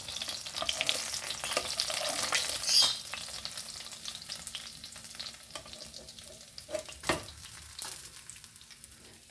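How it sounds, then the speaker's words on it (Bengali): Fish fry in hot oil in a home kitchen, giving a bright, crackling sizzle with irregular pops and occasional scraping stirs, loud and close throughout with nobody speaking. "তো সব কটা মাছ আমার ভাজা হয়ে গেছে"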